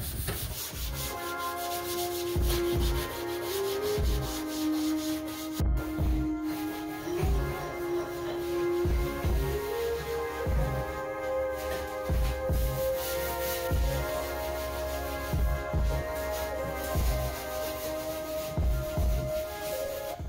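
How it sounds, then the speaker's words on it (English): Scuffing the outside of a Ford Focus ST hood by hand with a 3M Scotch pad, making loud, close, rhythmic back-and-forth rubbing strokes that repeat steadily throughout over a droning background. "We got some 3M scotch pad, and we're just gonna go ahead and scuff the outside here"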